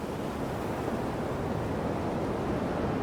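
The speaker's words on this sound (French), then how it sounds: "les vagues s'invitent parfois au-dessus de la digue" Sea waves surge and crash over a seawall in strong westerly wind, a continuous dense roar of surf and gusting air with no pause or talk.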